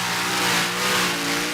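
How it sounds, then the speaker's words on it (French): A pulling tractor's engine roars loud and steady at a tractor pulling contest in Bernay, a dense, throaty drone that holds on without a break. "Le vrombissement du moteur"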